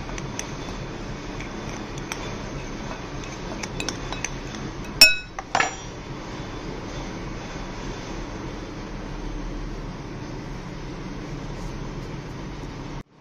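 A spoon stirring fuchka filling in a bowl, with a few light ticks and then two sharp metallic clinks midway over a steady background hiss, no voices.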